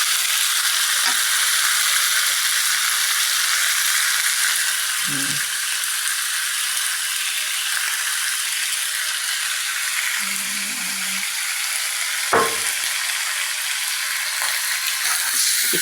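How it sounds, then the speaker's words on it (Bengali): Chicken feet cooking beside frying potatoes in a village kitchen, a loud continuous broad sizzle that holds steady throughout, with a few faint knocks and clinks underneath. "এইখানে রান্না হচ্ছে মুরগির পা আর ওখানে আলু ভাজা হচ্ছে।"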